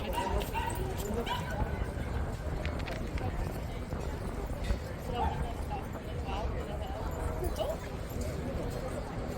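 Small dogs at an urban dog run bark and yip in a steady, busy jumble alongside general outdoor crowd noise, moderately loud throughout.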